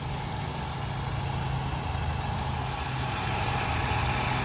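A 1997 Pontiac Grand Am SE coupe with a 2.4 liter Quad 4 twin-cam engine idles steadily, a smooth low continuous hum with a faint higher whine, recorded close and alone without talk.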